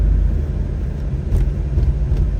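A 1997 Pontiac Trans Am WS6 idles nearby with a steady, deep low rumble that swells slightly, loud and continuous with no talking.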